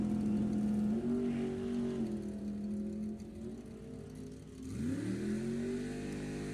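A Junior Comp drag racing car driven by Byron McCullough makes a solo run at a Pacific National Open event, its engine droning steadily, then revving sharply upward as it launches, loud and alone.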